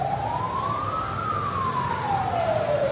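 A fire engine siren wails in a single rising-then-falling sweep inside a children's city of professions, loud and continuous over a steady indoor background hum, with no talk.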